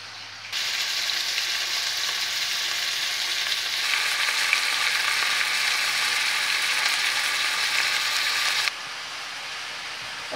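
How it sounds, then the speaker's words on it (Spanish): Onion frying in a shallow layer of oil in a pan gives a steady, close sizzle that starts abruptly, runs continuously and grows slightly louder midway, then drops back near the end. "Y la ponemos que se nos fría."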